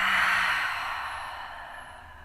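A slow, soft exhale during a hip stretch, breathy and close, fading gradually over about two seconds with no talking.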